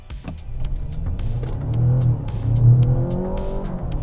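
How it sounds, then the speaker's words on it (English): A 2024 Mazda CX-90 GT plug-in hybrid SUV launches hard from a standstill, its engine rising from a low rumble to a loud, climbing rev heard from inside the cabin, with a few sharp clicks over it. "Mazda CX-90 GT plug-in hybrid. Let's go. All right, let's start out from a dig."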